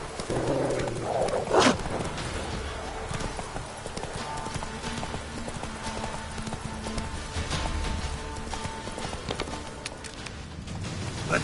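A horse gallops in The Witcher 3, its hooves drumming a fast, continuous clip-clop close by with a brief snort near the start and no talk.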